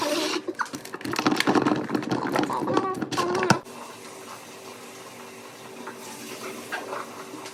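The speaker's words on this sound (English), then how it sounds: "I'm going to wash them first, and then I'm going to wash them and put them in this container." Cherry tomatoes are rinsed under a running kitchen tap, with loud splashing water and clattering for a few seconds before it stops abruptly, leaving a faint, quiet room hiss.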